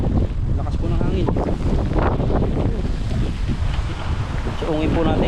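Strong typhoon wind roars and buffets the microphone continuously during Typhoon Carina (Gaemi), loud and close, with gusty rumble throughout and a voice talking underneath.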